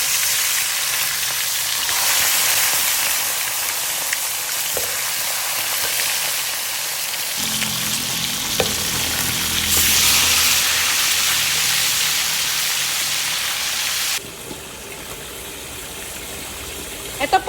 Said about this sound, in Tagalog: dito naman po sa kabila ay magpiprito tayo ng ating tilapia